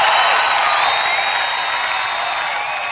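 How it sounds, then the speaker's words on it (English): Studio podcast audience giving a sustained, dense round of applause, loud and close, steady throughout and slowly easing, with no voices over it. "let's get a big round of applause, please"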